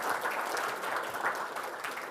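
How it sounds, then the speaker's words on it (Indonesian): Steady audience applause at a national resilience talk, dense and even throughout with no voices over it. "Nah, tepuk tangan untuk kalian semua."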